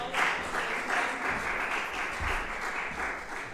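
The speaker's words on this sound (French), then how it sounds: "Applaus für deine Ehre." A church congregation applauds together, a steady sustained wash of many hands clapping at a moderate distance, continuous with no talk over it.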